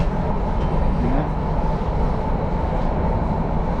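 Delhi metro train running, a loud steady low rumble and rolling roar heard from inside the air-conditioned carriage, continuous with no talking.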